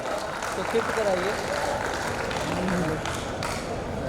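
An audience at a building inauguration gathering applauds, a steady wash of clapping that holds for several seconds under some voices.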